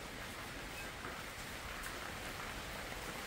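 Steady, even hiss of rain falling on a 3x9 pavilion, soft and continuous with no other sounds standing out.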